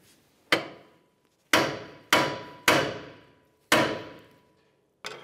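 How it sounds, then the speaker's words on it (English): Five sharp metallic hammer blows on the steering knuckle of a 2005-2010 Dodge Dakota, vibrating it loose, spaced unevenly about a second apart, each ringing briefly before fading, with no talking. "We'll use a little bit of vibration with a hammer to break it free."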